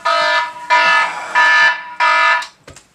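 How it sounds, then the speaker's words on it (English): A phone meditation alarm beeps in four loud, evenly spaced tonal bursts about half a second long, followed by a few faint clicks, with no talking. "That was my meditation alert"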